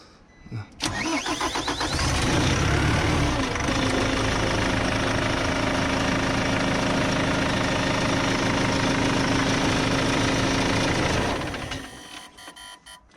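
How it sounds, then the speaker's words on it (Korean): A heavy excavator diesel engine, newly replaced, cranks and catches, then settles into a loud, steady idle with a rumbling knock before shutting off near the end. "아 시동 한번 끌어보면 좋겠죠"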